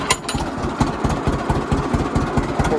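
A tractor engine idles steadily at close range, giving a continuous rhythmic chugging pulse and a low rumble, with no voices.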